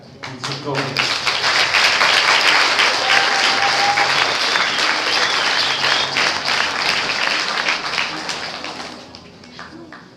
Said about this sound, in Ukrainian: гэтыя наши аплодисменты — это такая им подяка